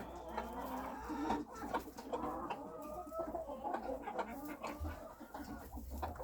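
A bantam hen clucks repeatedly in a low, throaty, broody murmur, close by but quiet, with soft scuffling around it.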